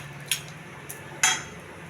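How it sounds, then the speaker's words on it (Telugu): Fried tempering spices scraped from a pan onto a plate, giving a few short metallic scrapes and a clink, the last one loudest, close by against a faint background hiss. "తాలింపు వేగిందండి, ప్లేట్లో పెట్టాలి."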